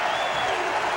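A college basketball arena crowd, Tennessee against South Carolina, roars in a steady, dense wash of cheering and noise that fills the whole moment without pause.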